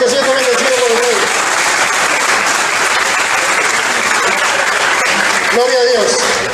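A church congregation claps loudly and continuously through a sermon, a dense sustained roar of applause with voices rising over it at the start and again near the end.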